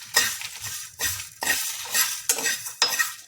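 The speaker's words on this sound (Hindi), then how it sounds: "ये देखिए भून लेंगे इसको, ज़्यादा नहीं भूनेंगे ना काला पड़ जाएगा, थोड़ा से इसको भून लेंगे।" Ingredients for bathua raita are dry-roasted in a frying pan, with a spoon scraping and tapping against the metal in repeated bursts over a light sizzle, close up with no talking.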